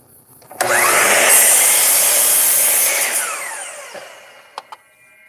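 Power saw cutting wood in a single cut: a sudden loud whining buzz that holds for about three seconds, winds down, then two short sharp knocks follow.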